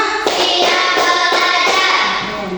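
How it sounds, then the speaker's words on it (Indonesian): A group claps hands in a counted run of five beats, loud and close, with an even rhythm over a dense, continuous wash of noise. "tepuk 1, tepuk 2, tepuk 3, tepuk 4, tepuk 5"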